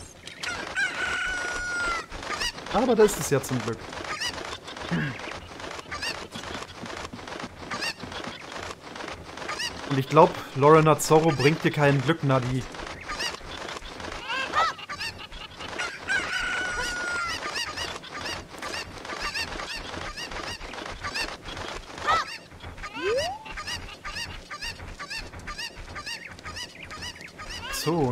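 Game chicken clucks and squawks in Zelda: Ocarina of Time, recurring amid in-game music and effects while someone talks over much of it.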